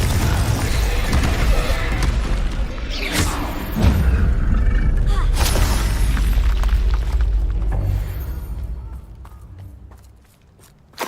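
Incendio fire spell cast in Hogwarts Legacy, a loud roaring burst of flame with booming thuds and crackling debris, sustained for several seconds before fading, close and heavy.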